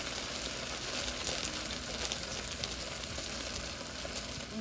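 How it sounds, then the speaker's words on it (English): Meat frying in a pan on a gas stovetop for enchiladas, a steady dense sizzle with faint crackles, continuous and close, with no one speaking. "And there's my meat. And I'm gonna let that cook."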